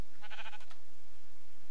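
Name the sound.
sheep bleating in the video game Minecraft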